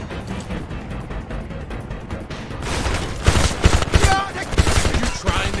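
Heavy gunfire in the war shooter Homefront, with a dense burst of rapid automatic shots and booms building in the second half over a steady battle din, some voices mixed in.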